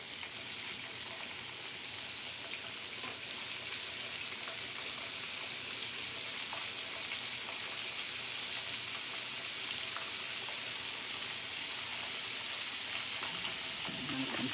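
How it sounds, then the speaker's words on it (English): Floured chicken sizzles and crackles in hot oil in a steady, bright hiss that continues unbroken, with faint clinks near the end. "Can you hear it frying?"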